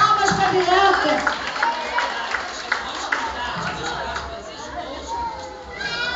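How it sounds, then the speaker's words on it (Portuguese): Crowd at a school literary fair award ceremony claps for a prize winner, with chatter and scattered cheering mixed into steady, fairly loud clapping that fades slightly toward the end. "Palmas para a Bianca."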